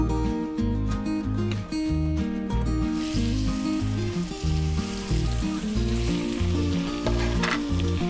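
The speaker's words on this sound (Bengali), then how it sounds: "একটু ভেজে ভেজে নেব সুন্দর করে ভেজে নেব" Ridge gourd frying in oil in a pan, a steady sizzle heard under loud background music throughout.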